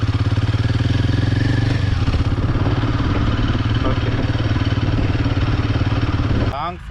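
A Royal Enfield Himalayan 450 motorcycle is ridden, its engine a close, steady mid-pitched drone with a faint mechanical rattle that continues throughout and drops away at the very end.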